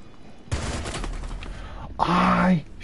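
A burst of gunfire erupts in Rainbow Six Siege, a loud crackling volley followed by a brief shout-like tone, close and harsh.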